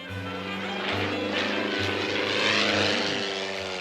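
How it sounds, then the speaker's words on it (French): A propeller airplane comes in to land, its engine a loud, close, steady drone with a pulsing low hum throughout and no talking. "Tu vois, Clémentine, si mes roues touchent le V au moment où on atterrit, on gagne."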